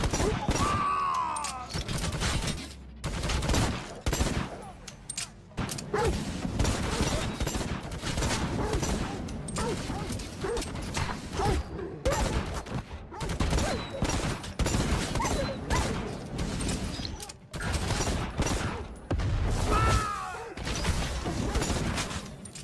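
Rapid gunfire from the video game Necromunda: Hired Gun, dense bursts of shooting with crashes and mechanical clanks running throughout, loud and busy with only brief pauses.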